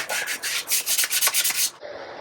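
Close, rhythmic hand-scuffing strokes rub back and forth over the hard surface of a 2000 Ford F-350 truck, a gritty hiss repeating about every quarter second before stopping.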